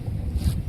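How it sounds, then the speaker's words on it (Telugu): Strong wind buffets the microphone while riding pillion on a Rapido bike taxi, a steady low rumble with gusts swelling near the middle, with no talk. "గాలి కూడా భయంకరంగా వస్తుంది మొత్తంగా."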